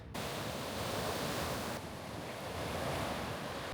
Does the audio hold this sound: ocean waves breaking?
yes